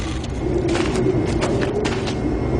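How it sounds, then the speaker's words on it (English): Steady, loud mechanical roar inside a clean coal facility, dense low rumble with hissing and clanking layered on top, continuous and close with no voices. "Machinery's kind of loud,"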